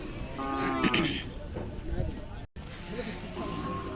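Khillar cattle mooing at a weekly cattle market in Sangola, several drawn-out lowing calls with people talking nearby and general crowd noise throughout.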